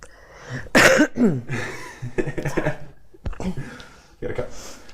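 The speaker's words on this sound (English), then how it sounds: "And I have to cough." A single sharp cough bursts out amid conversation, followed by a brief throaty sound and a chuckle, with a person talking before and after.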